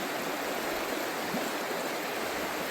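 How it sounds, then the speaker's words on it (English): The Wild Ammonoosuc River rushes over boulders and rocks in a constant, full roar of flowing water, steady and close with no voices. "the water flows way over there. It's almost like another channel. It's all boulders and rocks."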